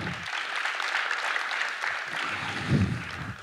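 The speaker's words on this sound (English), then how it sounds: "Let's give these guys a round of applause." A group of coaches at a physical literacy session applaud, a soft, even wash of clapping from a small crowd with a low voice murmuring under it.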